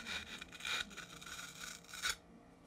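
A scribe is drawn across soft wood to strike a layout line for hand-cut dovetails, giving a few close, quiet scratching strokes that stop abruptly.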